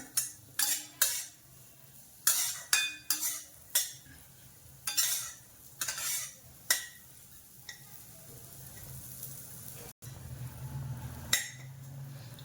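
Raisins lightly roasting in a pan, stirred with a metal spoon that clinks and scrapes against it in quick bursts, close and crisp, followed by a quieter stretch of low sizzling with one more knock near the end; no talking.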